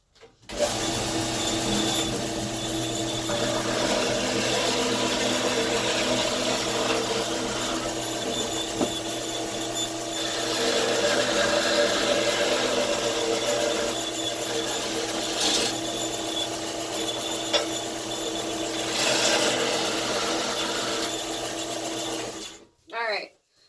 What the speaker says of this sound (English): I'm going to go on the bandsaw really quick, and I'm just going to get rid of all of this excess Kydex.